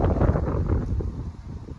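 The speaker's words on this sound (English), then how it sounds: "sorry, it's really windy." Brief blast of wind rumbling hard against the microphone, loud at first and easing slightly toward the end.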